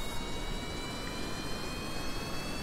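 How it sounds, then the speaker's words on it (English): Aircraft jet engines running in Kerbal Space Program with the Ferram Aerospace mod, a steady, faint broadband roar with a thin high whine, constant and without talk. "Fire up the engines, throttle up, turn the brakes off."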